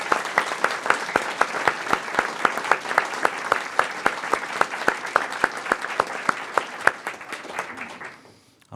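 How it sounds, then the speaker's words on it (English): An audience at a school board meeting applauds its award recipients: dense, steady clapping with sharp individual claps, sustained for about eight seconds before fading out at the end. "Join me in one more round of applause congratulating all of our recipients."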